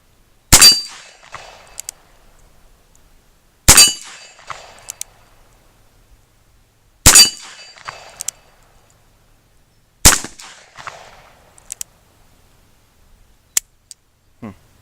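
.357 Magnum handloads fired at steel targets: four sharp loud gunshots spaced about three seconds apart, each followed by a brief ringing decay, with faint handling noise between them.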